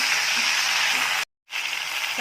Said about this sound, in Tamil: இப்போ இந்த கீரை போட்டுட்டு நல்லா வதக்கி விட்டோம்.